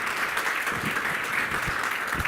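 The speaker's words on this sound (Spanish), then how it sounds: "le podéis dar el aplauso que se merece" Audience clapping at a Spanish-language financial-sector conference on AI, a steady dense patter of hands filling the room for a couple of seconds with no talk over it.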